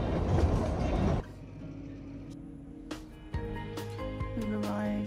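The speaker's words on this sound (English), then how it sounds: "We've arrived to Shimla, where the train ended." A train running on the railway line to Shimla, a loud rumbling ride that drops to a quieter rolling clatter with occasional clicks and knocks from the carriage.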